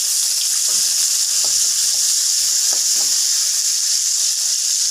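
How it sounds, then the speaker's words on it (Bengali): Onions and tomatoes frying in hot oil with whole cumin and garam masala give a loud, constant sizzle with occasional light stirring clicks, close and steady throughout with no voices. "এখন প্রথমে পেঁয়াজ আর টমেটোগুলো তেলের মধ্যে দিয়ে দিচ্ছি।"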